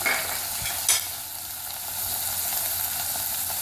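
Finely chopped tomato from one large tomato, with a teaspoon of cumin, fries for baingan bharta in a steady close sizzle, with a brief sharper stir near the start and no voices.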